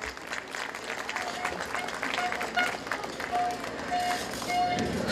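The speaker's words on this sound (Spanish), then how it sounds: "Lo recibimos con fuertes palmas." Applause for a newly sworn provincial councillor at a municipal swearing-in ceremony in Huaura, a soft, steady crowd clapping heard at a distance with some voices mixed in.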